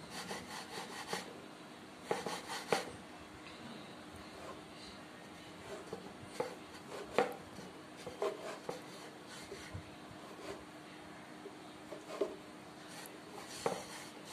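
Rolled pitha dough being sliced into equal pieces, giving repeated soft scraping and rubbing strokes with a few sharper taps, close and moderately quiet, with no talk.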